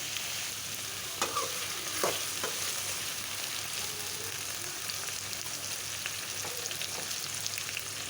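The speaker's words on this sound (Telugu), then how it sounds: "ఇప్పుడు కలుపుకుందాం. కొంచెంసేపు మగ్గనిద్దాం నూనెలోనే." Eggplant curry fries softly in oil under a broad, steady sizzle, with a few faint utensil scrapes as it is stirred, close and quiet, no voices.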